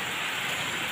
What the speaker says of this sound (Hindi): अब इतनी बारिश हो रही, इतनी बारिश हो रही है कि भर जाएगा